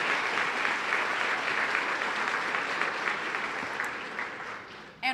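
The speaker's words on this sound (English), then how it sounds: "Let's give them a round of applause." An audience at a Boston Public Schools valedictorians luncheon claps steadily in a dense, even round of applause that holds for several seconds, then tapers off.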